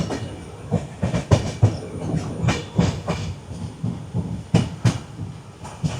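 The Padatik Express rolls along the rails with rhythmic clickety-clack wheel beats and a rumbling carriage interior, the close, steady clatter continuing throughout with no voices.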